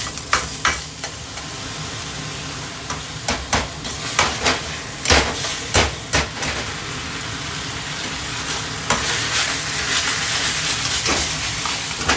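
Thai basil stir-fry (pad kaprao) being tossed in a pan, with repeated sharp scrapes and clatters of a spatula over a steady close sizzle that grows louder toward the end.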